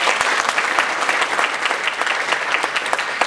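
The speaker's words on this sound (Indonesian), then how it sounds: "Tepuk tangan sekali lagi" Seminar audience at a public speaking event claps together in sustained, dense applause, close and loud, steady throughout with no break.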